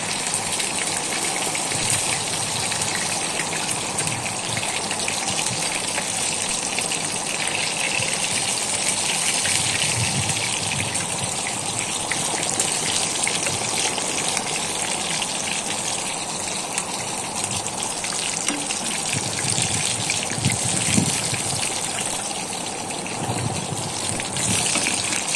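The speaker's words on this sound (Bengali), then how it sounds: "এভাবে করে আমি সবকটা মাছ ভেজে উঠাবো" Hilsa fish pieces frying in oil, a dense, steady, rain-like hiss that holds at the same loudness throughout, with faint low thumps now and then as the pieces are handled.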